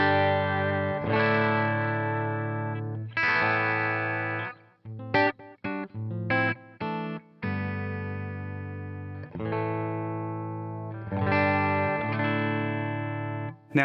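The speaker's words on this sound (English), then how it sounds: "here's just the guitar and amp" An electric guitar goes straight into an amp with no pedal, playing sustained chords with short choppy stabs in the middle, loud and up close, with no voices.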